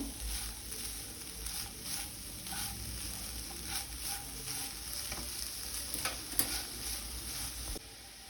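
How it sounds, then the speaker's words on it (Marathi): Jaggery stirred as it melts in a hot pan for a traditional Marathi sweet, giving a steady sizzle and frying crackle with soft scraping strokes throughout. "मेल्ट होईपर्यंत आपल्याला हे छान असं परतवत राहायचं आहे गूळ किंवा साखर जे काही घालायचं असेल ते तुमच्या चवीनुसार तुम्ही घालू शकता"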